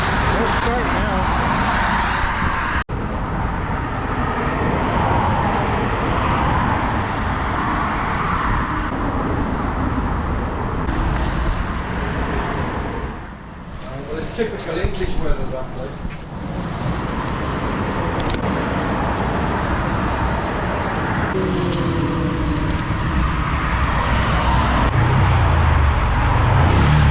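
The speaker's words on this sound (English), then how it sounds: "There are trucks going by us 4 feet away at 70 miles an hour." Highway traffic rushing past at about 70 mph just feet away, a continuous loud roar of cars and trucks with surging passes and a brief dip midway, while someone talks over it.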